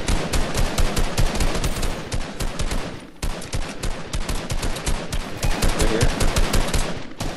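Dense, rapid gunfire from the video game Fortnite rattles almost continuously in loud automatic bursts, with a brief lull midway; a player speaks briefly over it.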